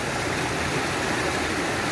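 A mountain river in the Alps rushes and roars in a dense, unbroken wash of water noise, close and loud throughout, with no voices.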